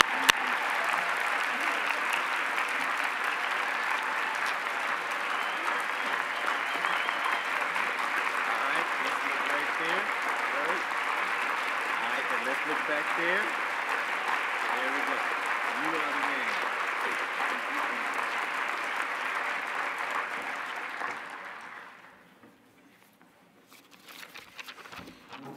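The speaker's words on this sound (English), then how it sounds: "Please, let's give him a standing ovation." Sustained applause from an award ceremony audience giving a standing ovation to the 2022 Robert Phillips Award recipient, a dense steady patter of many hands lasting about twenty seconds before fading out.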